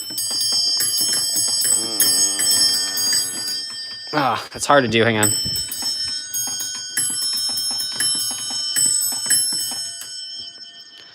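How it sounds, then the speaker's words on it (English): Victory bells ring out brightly with sustained metallic overtones over nearly the whole stretch, while someone talks briefly over them partway through. "Let me go ring the bells."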